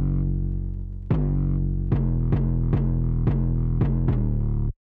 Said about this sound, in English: So together the 808s sound like this.